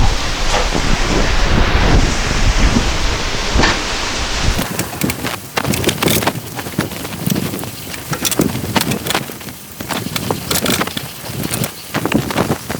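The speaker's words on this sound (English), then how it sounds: "All right, it's raining now." Rain falling outdoors around a 1993 VW Cabriolet under transmission and clutch repair: a loud, dense steady hiss that thins into irregular crackling patter and drips, with no voices.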